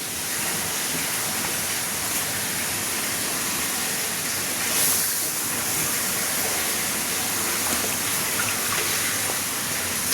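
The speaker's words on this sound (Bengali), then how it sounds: "এই জগটা পানি দিয়ে, ওই জগে পানি দিয়ে।" Water poured into a jug during portioning of fish fry into bags at 250 grams each, a steady broadband splashing rush that holds evenly throughout, close and fairly loud with no talk.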